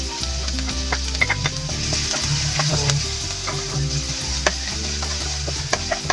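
Garlic sizzles in oil in a pan while a utensil stirs and scrapes, with occasional clinks against the metal over the steady frying hiss.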